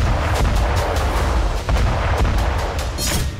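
Artillery fire in wartime combat around Zaporizhzhia, with repeated heavy booms and blasts spread loudly through a dense, rumbling battlefield background, no voices.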